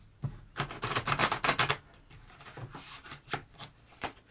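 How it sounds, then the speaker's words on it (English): A deck of tarot cards is shuffled in quick riffling bursts, a dense run of crisp flutters followed by a few scattered softer taps, close and fairly quiet. "I'm just going to get these shuffled first."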